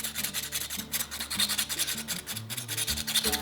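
Sandpaper rubbed in quick back-and-forth strokes over the edges of a rifle shell case pipe tamper, a close, steady rasping scratch with even rhythm.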